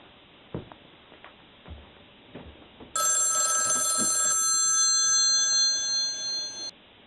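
A telephone rings: a loud, bright electronic bell burst that starts partway in after quiet shuffling and knocks, sustains for several seconds, then cuts off.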